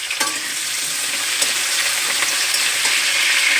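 Diced potatoes fry in hot oil for home cooking, giving a loud, continuous sizzle with a few sharp stirring clicks and scrapes throughout.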